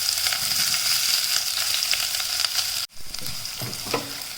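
Steady, loud sizzling of thinly sliced onions frying in a hot pan, crackling continuously with a brief dip partway through as they're stirred.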